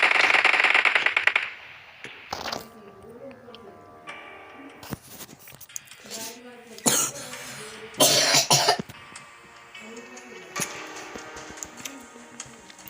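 A person playing the mobile game BGMI coughs in several sharp, close bursts, mixed with game sound effects, gunfire-like pops and brief speech.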